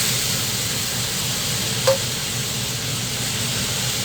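Singapore noodle ingredients cooking in a pan give a steady, fairly loud hiss and sizzle throughout, with one brief faint tick near the middle and no talk.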